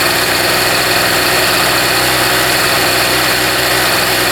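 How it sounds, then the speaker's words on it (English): A small generator engine runs loud and close, sputtering with an uneven, rough-edged chugging throughout and no voices. "This is just a rough running little engine."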